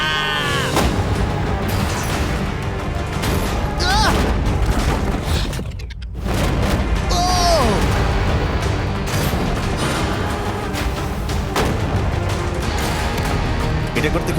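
A loud burst of rapid gunfire aimed at a shipping container plays outdoors, repeated blasts and impacts mixed with excited shouting and voices throughout, briefly dropping quiet for a moment midway.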